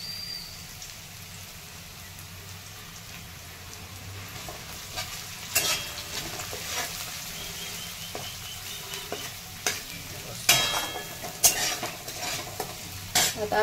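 Chopped onion, cumin, mustard seeds, garlic, ginger, coconut and curry leaves fry in hot oil for a sprouted moong curry, giving a steady close sizzle; sharper clinks and scrapes of stirring come in more often during the second half.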